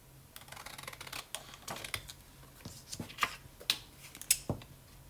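Close, crisp snipping and clicking of scissors cutting paper, irregular short cuts growing sharper toward the end.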